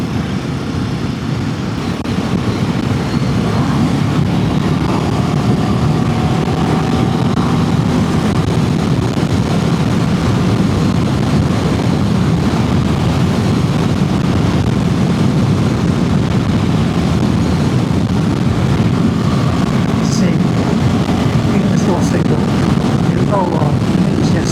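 A Royal Enfield Himalayan 450 motorcycle engine drones steadily at road speed, buried under constant wind rush buffeting the microphone.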